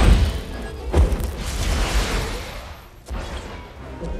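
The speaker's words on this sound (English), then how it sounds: "Explosion." Explosions from the video game Tyranny burst out in a few heavy booms, one sharp hit near the start and another later, with crackling debris trailing between them, no speech.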